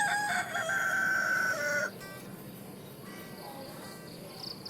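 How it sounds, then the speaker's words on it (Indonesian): A rooster crows once, a loud drawn-out call that ends abruptly, followed by a quieter background with faint insect chirping. "terdengarlah suara ayam berkokok"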